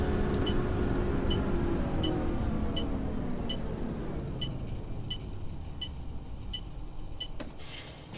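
An Alexander Dennis E400 bus engine sound mod in OMSI 2 winds down, its steady drone falling in pitch as the bus slows, with regular soft indicator ticks ticking evenly above and a brief clatter at the end.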